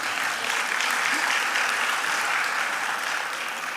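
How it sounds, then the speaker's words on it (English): Steady applause from a conference audience during a keynote address, dense and even for the full few seconds, with no speech on top. "Okay, clap for her then."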